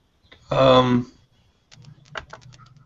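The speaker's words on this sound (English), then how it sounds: "I don't want to hear any keyboard clicking." Computer keyboard typing, a short run of quick, light clicks that follows a brief burst of voice, close and fairly faint.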